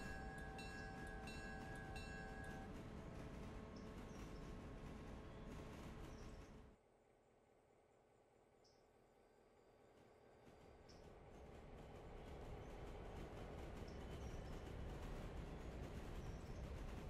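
Switcher train on a railroad track near Wilmot rolling past, loud steady rumble with brief horn-like tones early, dipping quieter midway then building again as cars pass close.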